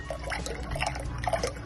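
Carnation milk pours into a mixture for Haitian passion fruit cremas, a short, close, gurgling liquid stream lasting under two seconds with no talking.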